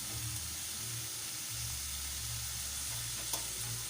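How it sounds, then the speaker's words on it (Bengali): Aubergine, potato and bituli fry with fish in a pan, a constant soft sizzle with a low background hum and one brief clink near the end. "বিটুলিগুলো দেওয়ার পর আবার আমি ভালো করে নাড়িয়ে চালিয়ে নিচ্ছি"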